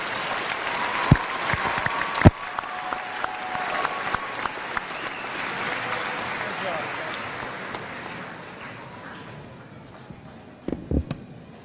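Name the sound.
audience applause for College of Education graduates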